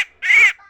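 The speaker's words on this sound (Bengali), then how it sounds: "ডাকছে, পাখি ডাকছে।" Single bird call, a loud, close, brief harsh squawk with a nasal quack-like tone, preceded by a tiny chirp, with no talk.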